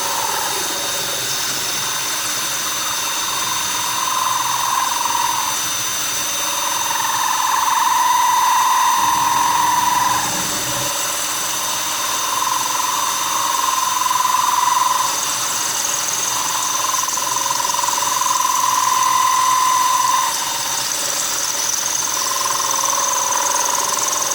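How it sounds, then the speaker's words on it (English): A power drill bores steadily through an antique glass bottle with water added, giving a loud, continuous high whine that swells and eases in long regular waves, with no talking. "Stick your drill in there."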